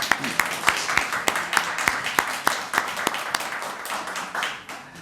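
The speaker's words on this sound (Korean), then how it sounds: "우리 큰 박수로 우리 하나님께 영광에 박수 올려드리겠습니다" A congregation claps in a cramped Christmas worship service at a Korean church, the sharp hand claps coming in a loose, uneven rhythm that thins out toward the end, with faint voices murmuring beneath.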